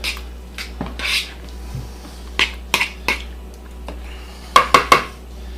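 A utensil stirring crab and Swiss quiche ingredients in a bowl, with scattered scraping strokes and several sharp clinks against the bowl, growing into a quick cluster of knocks near the end.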